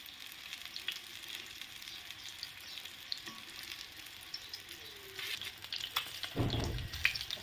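Masala fish fillets fry in a pan while the other side browns, a continuous low crackling sizzle throughout with a few pops and a louder burst of spitting and clatter near the end, no voices.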